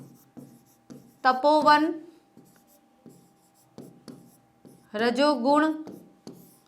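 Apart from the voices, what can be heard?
writing words on a board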